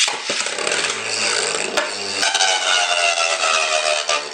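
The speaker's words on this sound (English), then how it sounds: "that was the wall frame scraping the ground" A Beyblade Burst spinning top with a metal frame grinds and scrapes across the floor in a steady, harsh metallic rasp, broken by a few sharp clicks and knocks.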